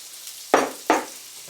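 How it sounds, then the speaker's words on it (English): Fat pork and a spoonful of butter frying in a pan for Newfoundland stewed cod. Two short, loud hissing bursts land close together, each fading quickly, with quiet in between. "I'll just fry it at the beginning anyway with the fat pork and a tablespoonful of butter."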